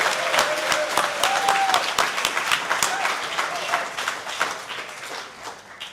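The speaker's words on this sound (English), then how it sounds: "Big round of applause." Sustained audience applause at a party convention and candidate debate, dense clapping throughout with scattered cheers and a voice calling out over it, tapering slightly toward the end.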